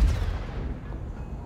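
A tank cannon shot in a World of Tanks-style video game booms loudly at the start, then a low rumbling echo decays over about a second.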